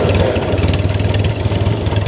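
A Ferguson TE20 tractor engine runs at a steady idle, close and loud, with a low regular chugging and no talk.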